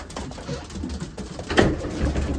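Racing pigeons coo and shuffle in a loft, low soft calls repeating close by with light rustling and patter, with no talk.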